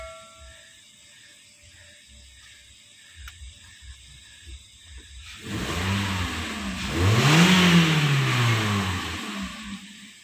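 A 2012 Toyota Corolla Altis 2.0 with the AC switched off, undergoing a standard tune-up: a quiet idle first, then the engine revs up loudly, its pitch rising and falling before easing back.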